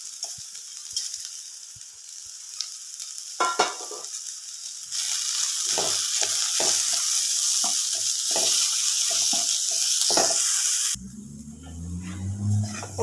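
Sliced onions and long-cut green chilies sauté in a hot pan for a curry: quiet stirring and scraping give way to a loud, steady sizzle with spoon clinks, then an abrupt cut to a lower, rougher clatter.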